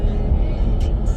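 Road traffic in downtown Atlanta, a steady low rumble of cars moving close by, with a brief hiss of passing vehicles near the end and no talk over it.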